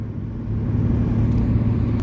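A car engine drones from inside a moving car on a road trip in the Balkans, a steady low rumble and whir with road noise that gradually builds slightly louder, with no talking.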